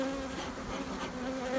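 Honeybees in a hive being smoked and shaken off frames during a spring colony check, a soft, steady, droning buzz with a constant hum, close by and fairly quiet.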